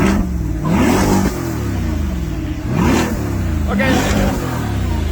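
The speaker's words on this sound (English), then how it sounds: "Rev it." A car engine at a car meet revs up several times in a row, each loud rising roar fading before the next, close by, with a brief spoken word over it.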